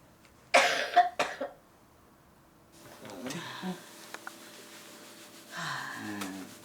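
A woman with a cold gives a couple of sharp, close coughs, followed by quieter rustling and a few more throat sounds and breaths.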